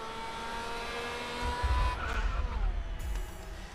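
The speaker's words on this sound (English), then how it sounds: "Slip slide my car all around the dang place" In the Grid racing game, an IndyCar at Istanbul Park Circuit drones at high revs, then its engine pitch drops as the tires squeal and the car slides into a rumbling skid.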